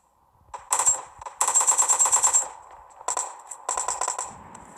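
Automatic gunfire in the mobile battle royale game PUBG Lite, several rapid bursts of close, loud shots with brief pauses between them, alone with no talk.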